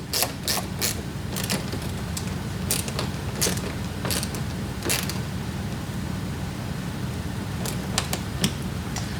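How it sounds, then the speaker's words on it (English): A 4mm Allen key in a ratcheting tool tightens the top mounting point of a Rokblokz mud flap on a 2020+ Tesla Model Y: close, sharp ratchet clicks come in quick bursts and repeated strokes, with no talking. "we'll swap our tool to the 4mm Allen head, and now we'll fully tighten the top mounting point"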